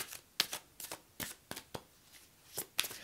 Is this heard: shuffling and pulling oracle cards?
yes